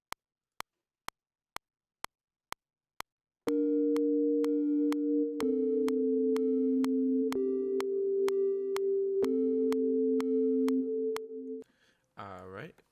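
A synthesizer plays a simple sustained melody line in Studio One, held tones stepping between a few pitches after a run of evenly spaced clicks from a metronome count-in, ending abruptly.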